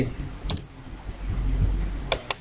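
Several crisp keystrokes on a computer keyboard while typing a component name into Eagle circuit design software, coming in two small clusters separated by a quiet pause, close and fairly clear.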